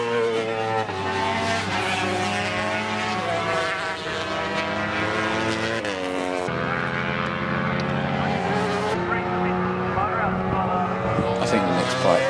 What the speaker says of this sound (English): Here's some more of bikes whizzing around the corner.